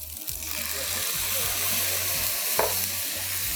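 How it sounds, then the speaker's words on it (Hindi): Thai fried rice with green onion and soy sauce is stir-fried in a hot pan with a loud, steady sizzle. A spatula scrapes rhythmically throughout, and one sharper clack lands near the end. "अच्छे से फ्राई कर लें।"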